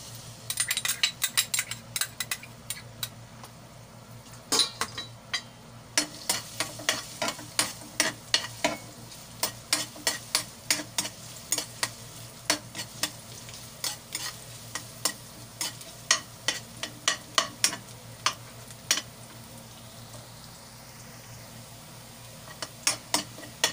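Garlic sautéing in a pan sizzles steadily for a long stretch, punctuated by many sharp clacks and scrapes of a utensil against the pan.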